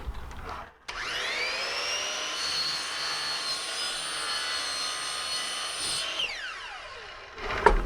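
Power saw cutting a hardwood flooring plank: the blade spins up with a sharp rising whine, holds a loud steady screaming cut for about five seconds, then winds down, with no voices.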